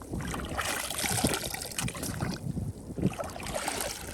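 Collected seashells being rinsed of sand on a beach at Dickmans & Kice, with continuous sloshing, splashing water and some wind buffeting the microphone, fairly quiet.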